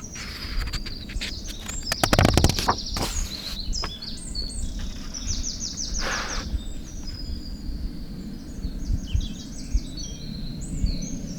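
Several birds chirp and trill outdoors, with repeated bursts of song over a low rustling background and a brief louder clatter early on.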